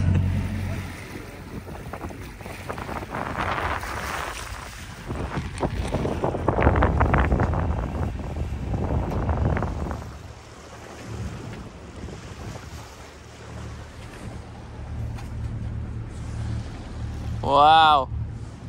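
A sailboat under sail, with wind buffeting the microphone and water rushing along the hull. The noise is steady and broadband, and it swells in the middle. People talk now and then, and a brief tonal squeal comes near the end.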